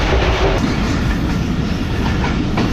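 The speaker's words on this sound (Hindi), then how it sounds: "काफ़ी अच्छी स्पीड में ट्रेन ने स्किप किया है पन्नौकुल को" Karachi Express passenger train racing along at high speed at night, a steady loud roar of wheels and carriage rumble with rhythmic clickety-clack and no voices.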